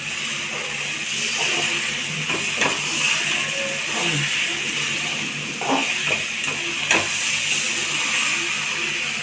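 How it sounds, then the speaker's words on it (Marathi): Scrambled eggs for anda bhurji sizzle in a pan while being stirred, making a continuous loud hiss with faint scraping and tapping from the spoon, close and steady, with no voice. "आता हे एक सारखं असं हलवत राहायचं"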